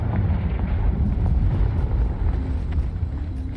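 A Confringo fire spell blasts in the Hogwarts Legacy game, a sustained deep rumbling explosion that rolls on loud and steady for several seconds with no talk over it.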